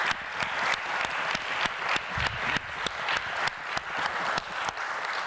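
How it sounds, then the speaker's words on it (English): A modest audience claps at a conference theatre session, fairly quiet and distant, the clapping falling into a loose rhythmic beat with no voices heard. "So could we give Geraldine a round of applause, please?"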